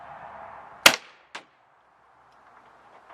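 A Webley Nemesis .177 CO2 air pistol fires one sharp, loud crack, followed a moment later by a fainter metallic smack of the pellet striking, then a quiet hiss fading out.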